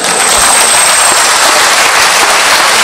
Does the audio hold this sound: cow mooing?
no